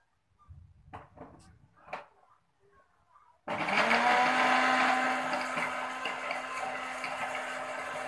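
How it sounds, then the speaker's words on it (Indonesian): After a few soft clinks and knocks, a blender suddenly starts and whirs loudly and steadily, blending a shrimp paste mixture for a nutrient culture. The motor drone stays close and continuous to the end, easing off slightly. "Kita blender lagi."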